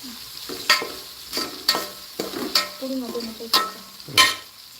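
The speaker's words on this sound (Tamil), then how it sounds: "எல்லோரும் சொல்கிற மாதிரி பொன்னிறமாக வர வரைக்கும் வணக்கிங்க" Egg fried rice frying in a hot pan while being stirred, with about seven sharp, regular spatula scrapes over a continuous sizzle, close and fairly loud.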